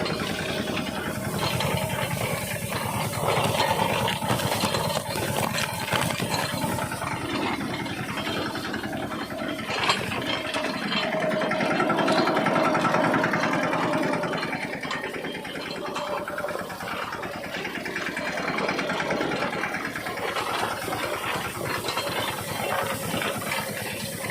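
A tractor engine running on a farm, a steady mid-pitched drone with a light rattle, holding at a constant level with a slight swell midway, close by and alone without talk.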